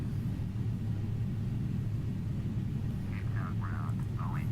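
An airliner taxis to the gates in Microsoft Flight Simulator X at Cape Town International, a steady low engine rumble droning evenly throughout, with faint voice traces late on.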